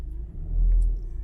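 A VW Golf MK7 with a DSG gearbox, held stationary under launch control, gives a short, deep engine rumble that swells and holds for a moment before dropping back.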